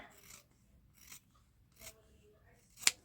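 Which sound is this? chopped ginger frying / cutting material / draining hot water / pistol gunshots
cutting material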